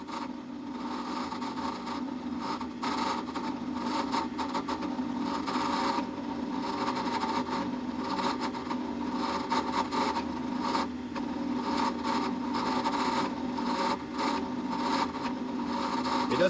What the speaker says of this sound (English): a small drill bit like this, you'll want to take it slow, back it out and let it clear now and then